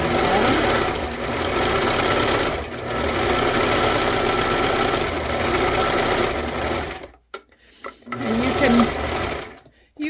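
A sewing machine stitches a fabric journal cover in a loud, close, continuous whirring run that briefly stops and restarts near the end, with a voice talking over it.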